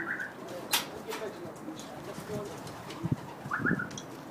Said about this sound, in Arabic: طبعا هذا الحمام نزل قدامنا 4 طيور بقى واحد